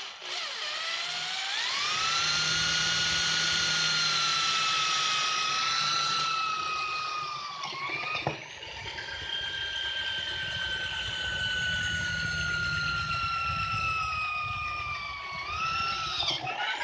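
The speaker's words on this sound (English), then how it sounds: "right now I'm going to drill this all the way through." Power drill boring a roughly 9/64-inch bolt hole through a backbone piece for insulators, whining steadily at high speed, pitch dipping under load, a brief pause partway through, then a second sustained run; loud and close.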